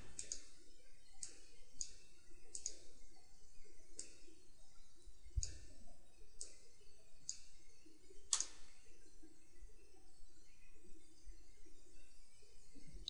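Sharp, faint computer mouse clicks while operating ShipConstructor shipbuilding design software, a dozen or so isolated clicks spaced about a second apart over a steady low hum, with no voices.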